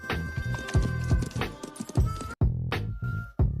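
Horse hooves clip-clopping at a steady walking rhythm while a horse is ridden on patrol, close and loud, with a brief pause before the hoofbeats resume.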